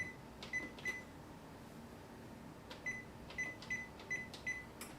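Oven control panel being set to 375 degrees Fahrenheit in a home kitchen, giving a string of short, clear electronic beeps: a few spaced presses, then a quicker run of beeps, each bright and close.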